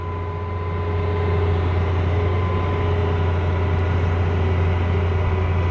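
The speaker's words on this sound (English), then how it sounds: "Just look how powerful that excavator is." A zero tail swing excavator drives nearby with a steady, loud diesel engine drone and a strong low hum, rising slightly at the start and then holding constant throughout, with no voices.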